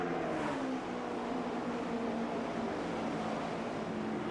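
NASCAR stock cars racing at Dover in the 2008 Sprint Cup Best Buy 400, a loud, sustained engine roar with tonal whine as a pack of cars streams past, continuous and without talk.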